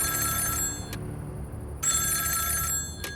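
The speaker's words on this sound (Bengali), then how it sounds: "টেবিলের ওপর রাখা ফোনটা বেজে উঠল।" A telephone on a table rings in two long electronic bursts separated by a short pause, clear and moderately close against a quiet room.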